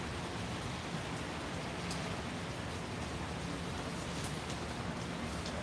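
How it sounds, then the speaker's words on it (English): Steady hiss of rain falling at a trackside, an even wash of drops on surfaces that runs unbroken and fairly soft throughout, with no voices. "Mama Bear gonna be coming home in the rain."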